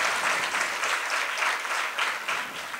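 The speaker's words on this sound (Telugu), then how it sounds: "అర్థమైతే ఒకసారి చప్పట్లు కొట్టండి" Audience clapping at a church sermon, a steady burst of applause from a crowd lasting a few seconds, fairly close and alone without speech.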